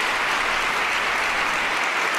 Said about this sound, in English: And people freaking clap.